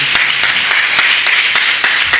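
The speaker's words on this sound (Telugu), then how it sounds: "కొట్టు చప్పట్లో" A church congregation at Sunday worship clapping hands together in a steady, dense rhythm, loud and close, filling the space with continuous sharp claps and no talking.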